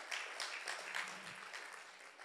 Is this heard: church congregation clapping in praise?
yes